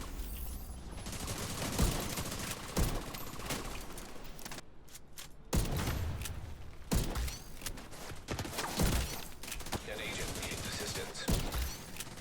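Rifle fire in The Division 2 player-versus-player combat, with sharp, loud single shots spaced irregularly amid game noise and scattered voices.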